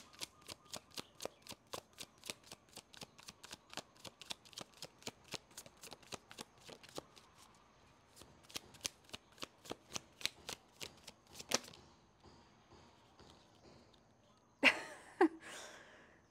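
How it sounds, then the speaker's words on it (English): Rapid rhythmic riffling of a tarot deck being shuffled, dozens of crisp card snaps in steady succession, then a pause, a softer flick of a card flipped over, and a couple of louder close handling sounds at the end. "the card that flipped over is the Two of Coins"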